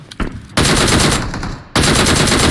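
Automatic gunfire from PUBG Mobile comes in two long, loud, dense bursts of rapid shots, close and harsh, after a few softer sounds at the start.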